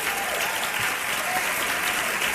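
Audience applause fills a women's health expo event, a steady dense wash of many hands clapping at even loudness throughout, with no voices standing out.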